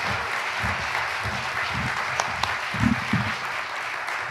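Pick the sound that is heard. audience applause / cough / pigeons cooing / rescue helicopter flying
audience applause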